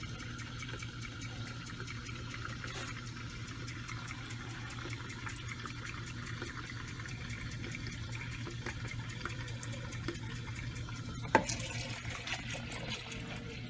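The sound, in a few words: filling a container with water for dyeing yarn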